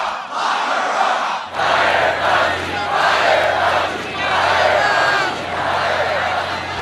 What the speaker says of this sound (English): there is a chorus of boos and other chants from this Trump crowd here in Tampa, Florida